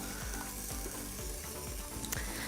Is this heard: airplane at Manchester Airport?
no